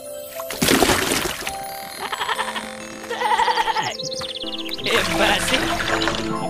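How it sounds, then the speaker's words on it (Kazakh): A billy goat bleats in a Kazakh cartoon, wavering cries rising over rural barnyard noise with splashing water, repeated across several seconds, loud and close. "Ей, үнің өшкір теке, бақыра берме,"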